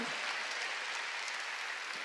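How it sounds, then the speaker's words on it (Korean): Church congregation clapping during a sermon, a dense, even wash of many hands applauding at once, sustained and fairly loud for about two seconds. "박수야"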